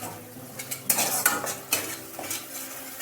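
Unripe jackfruit curry with salt, cumin powder and cane jaggery being sautéed in a pan, heard as a few scraping strokes and clinks of a metal spoon against the pan over a soft background sizzle.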